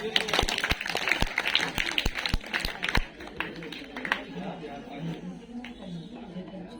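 Applause and clapping from an audience at a school girls' education program after a Class 10 student speaker is introduced, with sharp claps dense at first then thinning into a murmuring crowd.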